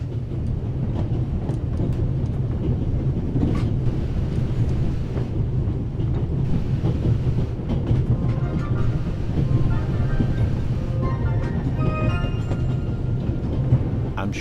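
A train travelling in The Raven Remastered, a steady low rumble of the moving carriages with faint clatter and occasional higher squeals, continuous and fairly loud with no one talking.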